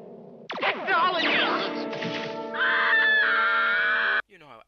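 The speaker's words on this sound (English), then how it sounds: "You know how actors never really scream in movies? Well, yeah, here they do." Loud, sustained screaming and wailing from the 1977 animated film Wizards, a long anguished voice over a droning tone that cuts off abruptly near the end.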